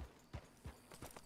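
A horse's hooves clip-clop on the ground with a few separate, soft, fairly distant strikes in an uneven rhythm and no talking.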